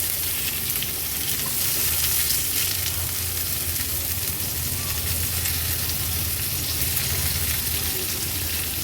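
Tomatoes fry in a covered pan, giving a continuous, even sizzle that stays loud and unbroken throughout, with no voices.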